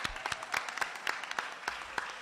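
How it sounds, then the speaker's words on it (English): Applause from a crowd at an Illinois State Fair Senior Day event, scattered individual claps standing out over a soft continuous patter, fairly distant and modest in volume. "Can we give them all a round of applause?"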